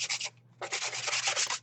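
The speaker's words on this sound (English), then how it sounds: "I just used a sanding block." A sanding block rubs over the hard edges of a plaque in a few quick, raspy strokes: a short pass, a brief pause, then a longer run of steady back-and-forth scraping, close and fairly quiet.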